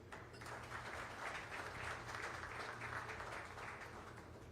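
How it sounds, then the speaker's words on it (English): An audience at a real estate conclave and awards evening gives a round of applause, a continuous patter of many hands clapping, soft and somewhat distant, sustained for several seconds. "Let's begin this with a big round of applause"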